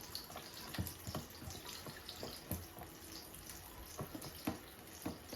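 Water running and splashing in a darkroom sink as bleached black-and-white photographic prints are washed, a steady close trickle broken by soft sloshes and drips.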